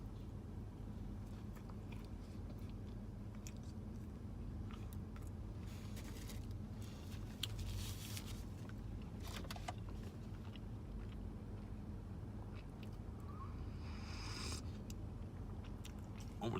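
Close, soft biting and chewing of a cream-filled donut from LaMar's Donuts, with scattered small crunches and mouth sounds over a steady low background hum, no talking.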